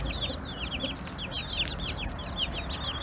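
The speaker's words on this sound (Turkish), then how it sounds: "Bakın şu tavuk da yumurtlamaya çalışıyor orada." A hen in a mixed farm flock clucks repeatedly while trying to lay an egg, its close, choppy calls mixed with bright chirps from other birds nearby.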